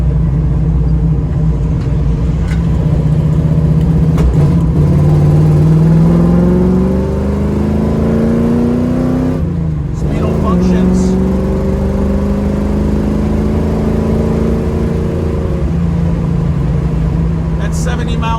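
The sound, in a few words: 1967 Chevrolet Camaro engine while cruising on the road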